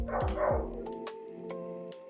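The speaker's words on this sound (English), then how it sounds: "Those are good dogs, though, that you hear barking." A couple of dogs bark in a short burst at moderate distance, followed by fainter, sporadic yips.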